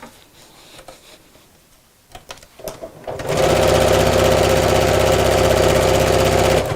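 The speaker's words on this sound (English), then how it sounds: "I'm going to sew straight across the bottom." Sewing machine stitching straight across the bottom of a fabric craft bag, starting after a few soft handling taps and then running loud, fast and continuous with an even mechanical chatter.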